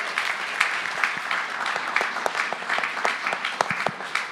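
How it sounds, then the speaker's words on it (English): An audience at a panel talk applauds the panelists with a moderate, slightly scattered patter of claps that holds at a fairly even level before thinning toward the end. "A little round of applause for our panelists."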